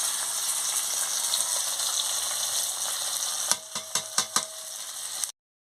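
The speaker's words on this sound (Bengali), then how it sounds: "দিয়ে ভালো করে মশলাটাকে ভেজে নিচ্ছি" Chili, cumin and coriander powder spices sizzling steadily in hot oil in a pan, a constant hiss that gives way to a few sharp clinks of a stirring utensil before abrupt silence.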